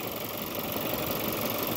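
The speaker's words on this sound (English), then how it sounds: "As you can see, the engine, you can hear it, it's the four-cylinder one." Seat Leon 1.4 TSI four-cylinder petrol engine from a 2015 FR Tech Pack, idling under an open bonnet with a steady, even hum and faint ticking, close up and unaccompanied by talk.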